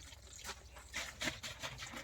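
Water trickles and seeps into soil while charcoal-powder organic manure is being made, a soft, uneven wet gurgle that comes in several low surges, close by with no talk.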